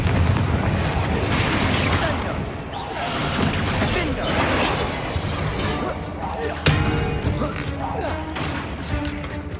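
Fiery blasting spell explosions in the Hogwarts Legacy video game, loud booming bursts repeating over dense game noise and music, with speech present.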